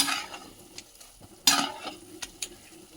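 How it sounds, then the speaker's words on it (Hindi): Spices roasting in oil in a kadhai for harira, a soft sizzle with stirring scrapes and a few sharper clinks of a spoon against the pan, nobody speaking. "मसाले ने तेल छोड़ दिया है और बहुत अच्छे से भुना है"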